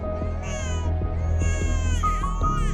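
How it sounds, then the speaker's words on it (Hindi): A young baby girl wails continuously indoors in a household, her loud, tonal crying rising and falling in pitch without pause. "इसके रोने की आवाज सुन के आंख खुल गई"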